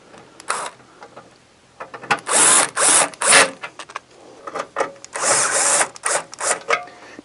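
A power driver fitted with a 5/16 bit runs screws into a defrost thermostat housing on a Santa Fe XT dehumidifier, with several loud whirring bursts separated by short clicks and pauses, close up.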